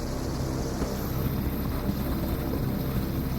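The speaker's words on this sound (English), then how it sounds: "helicopter hovering above the deck of a warship at sea. This British Royal Navy EH-101 is about to refuel without landing on the ship." A British Royal Navy EH-101 helicopter hovering over the deck of a warship at sea before refuelling, its rotor and engine giving a loud, continuous droning roar with no pause and no voices.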